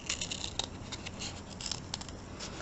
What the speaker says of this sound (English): I could just draw a circle on my cardboard and I'll just cut out a circle